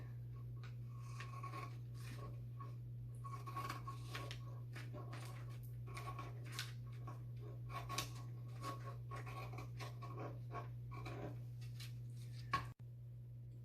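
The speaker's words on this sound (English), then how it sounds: "we're just going to take the scissors and cut on the line." Scissors snipping through folded paper along its crease line: a quiet run of short, crisp cuts and rustles close by over a steady low hum, ending in a sharp knock.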